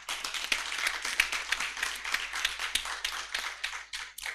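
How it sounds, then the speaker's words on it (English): An audience at a national inter-university constitutional law moot court competition claps steadily for several seconds, a dense patter of many hands heard from a distance, fairly quiet and without talk. "Let's give them a loud hand clap."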